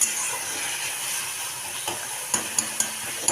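Spinach is stirred and fried dry in a pan, giving a steady soft sizzling hiss broken by a few sharp scraping strokes near the end.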